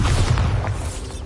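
A single Bombarda blasting-spell explosion from Hogwarts Legacy, a short, loud, low boom that rumbles briefly and fades.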